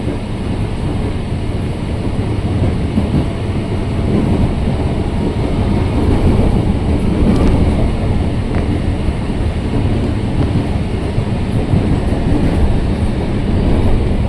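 KRL commuter train running on rails into Bekasi station, a steady close rumble of wheels and carriage noise with faint rhythmic clatter throughout.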